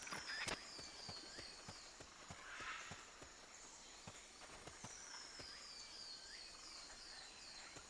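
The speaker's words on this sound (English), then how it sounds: "I just heard footsteps." Footstep sounds from the video game Metal Gear Solid: Peace Walker, a run of soft, regular clip-clop steps over a busy background of game ambience and tonal effects.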